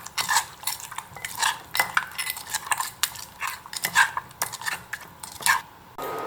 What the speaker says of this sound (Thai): โขลกส่วนผสมทั้งหมดให้เข้ากันค่ะ